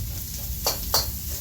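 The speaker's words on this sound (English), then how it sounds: "You hear that sizzle? That's what you're looking for." Onion sizzles steadily in a hot wok during stir frying, a constant hiss with a couple of brief louder scrapes from stirring.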